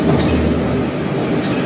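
A train clatters along its rails in a steady, loud rumble of wheels and cars, continuous and close, with no voices over it.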